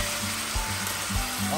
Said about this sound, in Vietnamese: bây giờ mình sẽ xào cho thịt gà nó săn lại